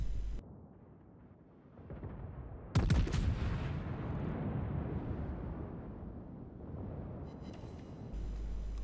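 A warship's main gun fires a single heavy boom in World of Warships, a sharp blast followed by a long rumbling decay over low ambient game noise, with no talking.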